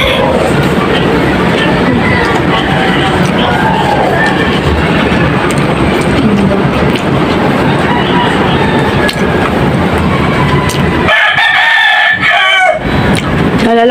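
A rooster crows amid dense outdoor background noise, with other fowl clucking faintly; the crowing carries across a busy rural soundscape.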